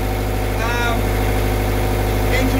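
A boat's engine runs steadily in the engine room while under way, a loud, constant low drone with a fixed harmonic hum. Faint voices surface briefly over the machinery.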